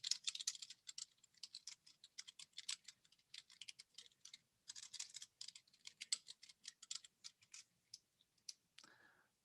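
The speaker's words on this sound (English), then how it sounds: "and if I keep typing" Rapid clicking keystrokes on a computer keyboard while working in Microsoft Word, in bursts with short pauses, close and fairly quiet, ending with a brief higher tone.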